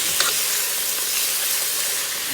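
Chopped onions frying in a pan for tinga, a steady close sizzle and hiss of hot oil running evenly throughout with no talk.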